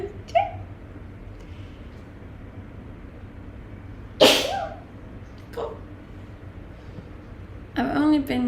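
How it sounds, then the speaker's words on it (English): A person sneezes once, sharp and close, midway through, followed by a couple of shorter bursts over a low steady room hum; a voice comes in near the end. "I usually always sneeze 3 times."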